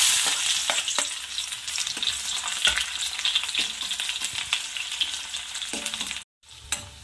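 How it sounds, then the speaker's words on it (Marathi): Chopped onion with mustard seeds fries in hot oil for a cluster bean dish, giving a loud, steady sizzle with spoon-stirring scrapes and clicks, close up, briefly cutting out near the end. "तेल तापलं पण आहे आपलं आता मोहरी ॲड करते मी आता कांदा ॲड करते"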